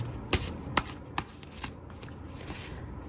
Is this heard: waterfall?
no